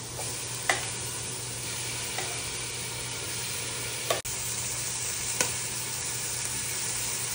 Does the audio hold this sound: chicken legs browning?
yes